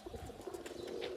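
Pigeons in a rooftop loft, including a black Koyalo pigeon pair, give soft, low, repeated cooing calls, quiet and close, with a faint chirp near the end.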